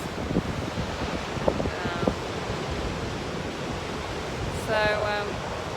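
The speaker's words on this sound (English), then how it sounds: "Here's some of the wild there, over there, the wild waves." Wild ocean waves on the coast along the Bibbulmun Track make a continuous loud roaring wash with wind buffeting the microphone, and brief bird chirps drift in over the surf.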